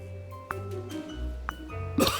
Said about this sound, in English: Sam refuses to learn from his mistakes and has to cough again.